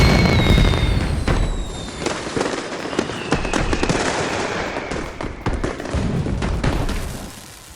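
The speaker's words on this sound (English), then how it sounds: "Obligatory fireworks." New Year fireworks: a dense, continuous barrage of crackling bursts and booms with whistling rockets streaking up, loud and sustained throughout.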